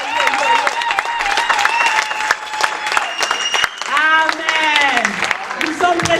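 A church congregation claps and acclaims God together, dense applause running steadily throughout beneath sung and shouted voices.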